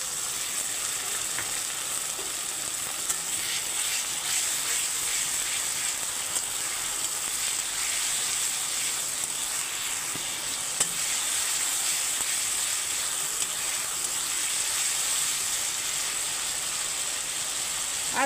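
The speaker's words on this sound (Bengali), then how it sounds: "এখন আমি আদা রসুনের পেস্টটা দিয়ে দিচ্ছি।" Ginger garlic paste hitting a pan of fried onions for chicken kurma, a steady soft sizzle and frying hiss with occasional stirring scrapes, no voices.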